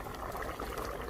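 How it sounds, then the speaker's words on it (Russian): Zirbak base for lamb plov, made with lamb tail fat, boiling in a pot: a steady, dense bubbling churn, close and moderately quiet, with no voices. "Вот так он должен кипеть сейчас."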